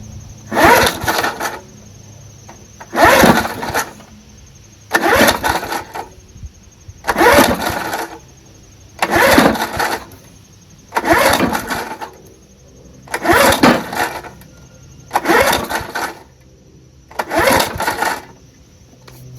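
A 1974 Ransomes Sensation Bob-Cat M21 push lawnmower with a Wisconsin Marine 4HP engine is pull-started about nine times in a steady rhythm, each loud close pull giving a brief cranking burst that never catches.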